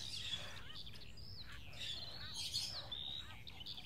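Birds chirp and tweet in a lively, continuous chorus of quick high calls and squawks, fairly faint and steady throughout with no talking.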